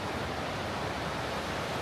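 Whitewater river rapids near Bend, Oregon, class 2.5 to 3, make a steady, dense roar of rushing, churning water, loud and close with no pauses.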